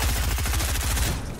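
Rapid automatic gunfire in the video game Fortnite rattles out in a fast, even burst of shots, loud and close, with no talk over it.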